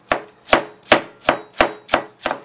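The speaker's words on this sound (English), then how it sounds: "and I can slice the tomato." A knife slices through a washed tomato on a cutting board, seven crisp, evenly spaced cuts in a steady rhythm, close and clear with no talking.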